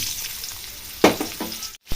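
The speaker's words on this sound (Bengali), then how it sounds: "এবার ওই তেলে ডুমো করে কেটে রাখা আলুটা দিয়ে দিব।" Diced potatoes go into hot oil for frying, a sudden loud sizzle that bursts up and then settles into a steady frying hiss, with a short drop to near silence before the sizzling returns.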